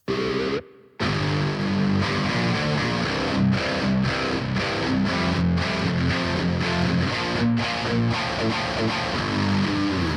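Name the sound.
distorted seven-string metal guitar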